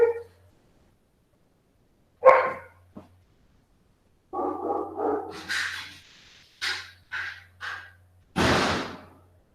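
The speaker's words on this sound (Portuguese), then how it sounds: "vou resolver esse barulho de cachorro aqui" Dog barking in a few separate bursts, some short sharp yaps and a louder final bark, with gaps of silence between them and a faint low hum under part of it.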